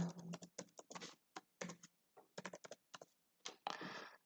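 Rapid bursts of keystrokes on a computer keyboard while entering a username and password, close and crisp, coming in uneven clusters separated by short pauses, with no voices.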